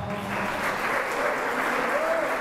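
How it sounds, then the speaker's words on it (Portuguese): An audience gives a round of applause for a speaker called to the front, steady dense clapping throughout, with a voice heard faintly among it. "Uma salva de palmas aqui para o nosso irmão."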